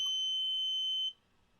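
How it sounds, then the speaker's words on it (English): A buzzer alarm set off by a microcontroller tilt sensor sounds a steady, piercing electronic tone for about a second, then cuts off abruptly into near silence. "you can hear the buzzer sounding, the alarm, and the LED is switched on"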